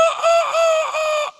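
A rooster crows once, close and loud, a drawn-out tonal call in several pulsing segments lasting over a second before cutting off into quiet.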